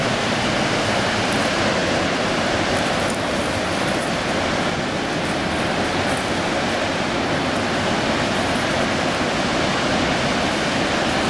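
A waterfall with a 150-foot drop in California, a loud, constant broadband roar of falling water, steady and unbroken throughout with no voices.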